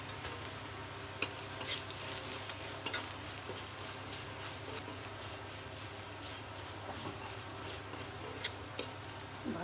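Pumpkin bori lentil dumplings fry quietly in a pan with cumin, onion and garlic, giving a soft steady sizzle broken by occasional sharp ticks of stirring against the pan.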